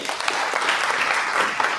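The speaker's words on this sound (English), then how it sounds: "I think we can clap hands for them." An audience at a graduation ceremony claps for the graduates, a dense, even burst of many hands applauding together, brief and fairly loud.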